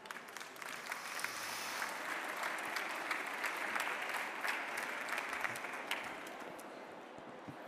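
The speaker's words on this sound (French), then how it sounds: "sous vos applaudissements" Conference audience at the IFTM 2024 travel trade show applauds Valérie Bonnette, president of Les Entreprises du Voyage, with a sustained, even wash of clapping heard at a moderate distance.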